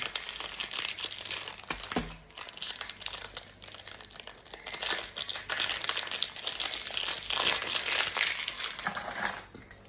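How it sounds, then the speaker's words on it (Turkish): Foil packs of licensed Galatasaray trading cards are torn open and crinkled close up, giving continuous crackling and crumpling with sharper tearing bursts throughout. No speech is heard. "kutudaki son kalan paketlerimizi hemen açalım."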